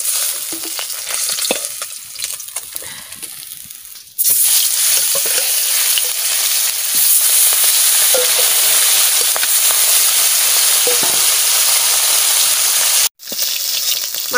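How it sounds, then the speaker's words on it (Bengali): Fish fries in a pan with a loud, continuous sizzling hiss that jumps louder partway through, with stirring scrapes and a brief cut near the end. "মাছ ভাজা হয়ে গেছে"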